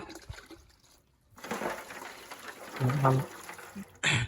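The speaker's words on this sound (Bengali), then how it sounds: "এটার ভিতরে পানি দিয়ে দিব" Water from a tap or jug pours into a container holding a lump of alum, a rushing splash that swells toward the end and ends in a sharp burst, heard over background noise.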